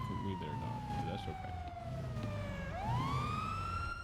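Emergency vehicle siren in the GTA V NoPixel roleplay game, a steady wail tone sweeping down then rising again, loud and continuous under a busy mix of game sounds and voices.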